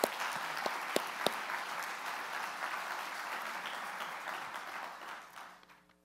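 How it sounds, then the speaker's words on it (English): Audience at an annual meeting, applauding in a dense, steady burst with a few sharp claps near the start before the clapping fades out at the end. "So I'd like to just a round of applause for the Taylors."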